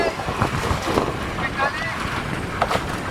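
A bangka outrigger boat travelling at sea off the Ilocos coast, with a steady rush of wind and water and engine drone running throughout, and a voice speaking faintly under it.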